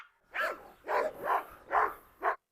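A Doberman barks in five hard, separate bursts while attacking a female dog, loud and close, with short gaps between each bark.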